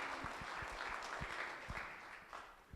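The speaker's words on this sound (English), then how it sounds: "please give them a round of applause" Crowd applause at a cattle sale in Campbellsburg, Kentucky, a moderate wash of clapping from the gathered audience, fading toward the end, heard without speech.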